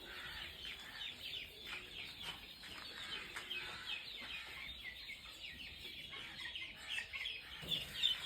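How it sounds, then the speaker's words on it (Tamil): Free-range chickens foraging outdoors on a farm cluck faintly and intermittently over a quiet, hissy background, with no one speaking. "வெளியிலேயும் கோழி மேயுது."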